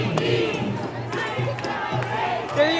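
A protest crowd at a rally against ICE in New York chants and shouts together in a continuous roar, heard from within the crowd.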